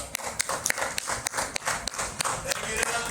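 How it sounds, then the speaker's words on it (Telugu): Schoolchildren at a Junior Red Cross flood-relief fundraising event clap together in quick, uneven bursts of hand claps, with faint voices murmuring underneath. "మా చిన్నారులందరికీ కూడా ఒకసారి పాల్గొన్న వారందరికీ కూడా చప్పట్లు కొట్టుకుందాం మనం"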